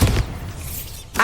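A Bombarda spell explosion in the video game Hogwarts Legacy: a loud, low boom at the start and a second burst at the end, with a rumbling tail between them.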